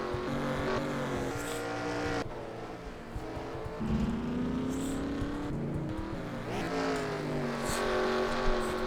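Race cars in an online sim racing league event at Mosport, engines droning steadily and sweeping past in a continuous loud roar with shifting pitch as the pack of leaders comes through.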